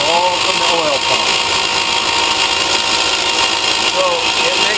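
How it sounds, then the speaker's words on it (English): Oil pump on a Grazioli lathe running with the spindle stopped, giving a loud, steady mechanical whine and hum that continues without a break. "So all that noise is coming from that oil pump."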